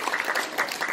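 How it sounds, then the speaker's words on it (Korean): Audience at a Korean association meeting and awards ceremony applauding warmly, a dense, steady patter of many hands clapping close by with no voices over it. "뜨거운 박수로 환영해 주시기 바랍니다"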